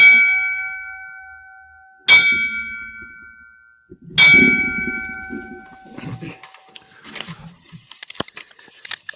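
FDNY fire service memorial bell struck in a tribute to fallen firefighters, three loud clear clangs about two seconds apart with long ringing decay, followed by muffled handling noise and faint talk.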